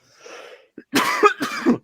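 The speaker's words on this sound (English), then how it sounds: "sorry, I had to cough" A soft breathy sound, then two sharp, close coughs in quick succession.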